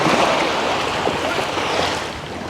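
A small passenger boat carrying seven or eight people moves across the water, with a steady, loud rush of waves and wind filling the whole stretch and no talking.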